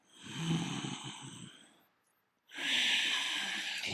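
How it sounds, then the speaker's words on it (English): Slow, deep breaths during a yoga session: a long audible inhale, a brief quiet pause, then another breath with a breathy, hissing exhale close to the microphone. "Hear the breath."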